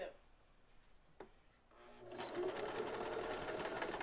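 Sewing machine stitching, starting after two seconds of quieter handling and running as a steady, loud mechanical whir to the end, with brief talk early on.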